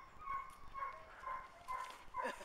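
A greyhound at a kennel gives several faint, whiny yelps and whimpering barks in short bursts, heard at a distance over background noise.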